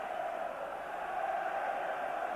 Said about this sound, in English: And listen to the cheering for